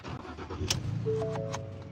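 A van engine turns over and starts as the vehicle moves off, a quiet, fairly close rumble with a brief clatter near the start and no talk.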